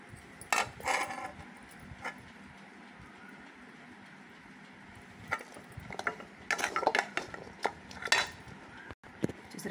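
Cooked curry scraped from a kadai onto a plate, with a series of close metallic spoon scrapes and clinks on the pan in uneven bursts, quieter gaps between them and no talking.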